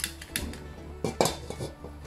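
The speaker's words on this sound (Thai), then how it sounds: "เอากระทะขึ้นตั้งเตาเลยจุดแก๊สจ้ะ" A wok is set down on a gas stove, giving a few sharp metallic clanks and clatters, close and moderately loud, with no one talking.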